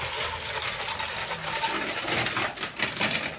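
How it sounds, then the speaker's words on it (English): Faint crackling and popping snaps of car sound deadening material cracking under dry ice, scattered over a hissy background, irregular small cracks close by with no talking. "So right here, you can kind of hear it cracking in spots."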